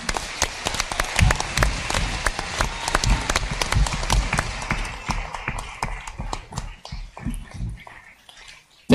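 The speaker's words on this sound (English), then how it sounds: "we may have a big round of applause for them" A room at a school board meeting breaks into a round of applause for art department students, dense sustained clapping that thins and fades toward the end.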